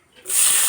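Chopped tomato drops into hot mustard oil with whole cumin in a kadai, bursting into a loud, bright sizzle that starts suddenly and holds steady.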